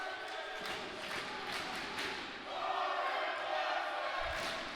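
Crowd noise rises in a gym during a men's college basketball game, a steady murmur of many voices swelling louder partway through, with a thud near the end.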